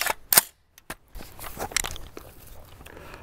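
Gunshots from a rifle firing German AM32 blue training ammunition through a chronograph, sharp loud cracks near the start followed by quieter clicks and handling noises.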